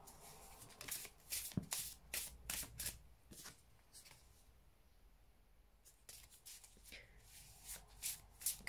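A deck of oracle cards is shuffled by hand with quick, close riffling and slapping bursts, a short pause midway, then more shuffling.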